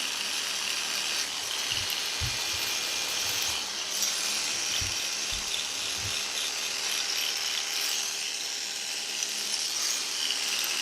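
A detachable hair clipper hums steadily close up during a fade haircut, with a high-pitched electric whine and occasional low thumps as it moves around the head.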